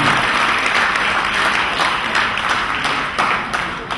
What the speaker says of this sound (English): Another round of applause to our biggest client